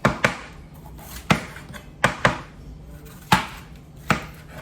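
A knife chops bell peppers on a cutting board in sharp, distinct thuds, about eight cuts at an uneven pace, close and clear with no talking.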